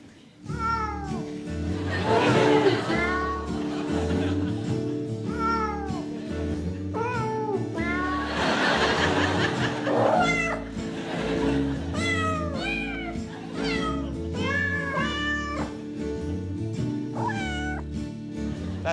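A novelty Christmas recording plays, with cat meows and caterwauls set to a festive tune over a steady rhythmic musical backing, loud and continuous throughout.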